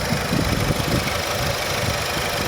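A Renault Megane 3 engine idles steadily up close, a low even rumble with a faint rhythmic knock and no voices.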